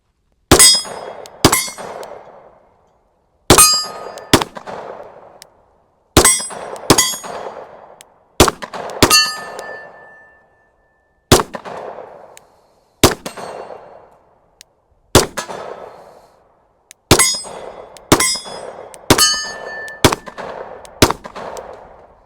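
SIG P365 Fuse pistol shots ringing steel gongs and a steel plate at 15 and 40 yards outdoors, around a dozen loud sharp cracks in spaced pairs and groups, each followed by a metallic clang that rings and decays.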